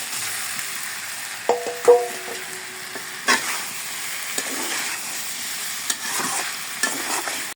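Fish sizzling and frying in oil in a pan, a steady close hiss with occasional stirring clinks and scrapes, no talking.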